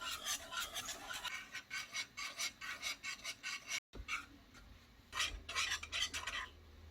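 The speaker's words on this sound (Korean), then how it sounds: "물이 끓기 시작하면 중약불로 줄여줄 거예요. 저어 볼게요." A spoon stirs water in a pot on the stove, repeated rhythmic scraping strokes close by, pausing briefly midway before a few more strokes.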